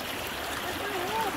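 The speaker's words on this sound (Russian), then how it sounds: "А тут всего лишь спуститься к ручью." Steady broadband wash of a forest stream flowing over rocks, continuous and fairly close, with no clear speech over it.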